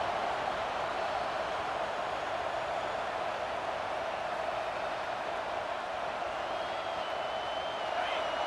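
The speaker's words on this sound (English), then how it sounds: "This crowd knows this defense needs them right now." Stadium crowd noise from the video game College Football 26, a steady, dense roar of cheering spectators that holds at an even level throughout, with no voices standing out.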